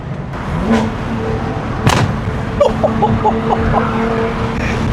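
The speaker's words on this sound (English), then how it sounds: "that backfires" A BMW G80 M3 engine rumbles nearby and its exhaust lets out a loud crack, followed by a quick run of sharp popping backfires.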